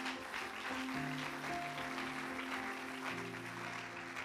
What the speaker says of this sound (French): Oh, acclamons pour le Seigneur bien-aimé